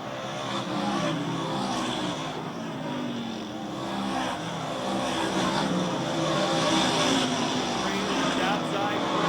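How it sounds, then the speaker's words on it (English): Race cars roar continuously around a dirt oval at Airborne Speedway in Plattsburgh, NY, engines swelling as the pack drives into a turn, with a race announcer talking over the steady engine noise. "Going after it right now as they race into turn number 4."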